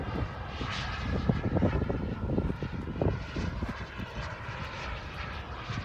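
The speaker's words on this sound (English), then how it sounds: "Lucky the plane has got a lot of lift." A Viper model airplane flying overhead, its small engine a steady buzzing drone that rises and falls slightly as it passes, moderately distant and fairly quiet, with no voices during this stretch.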